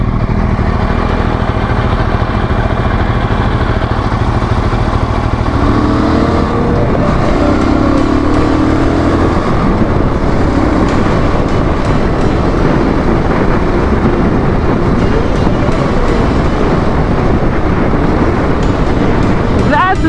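A Jawa 650 motorcycle being ridden on a group ride, its engine drone mixed with heavy wind rush, loud and continuous, with a rider talking over it.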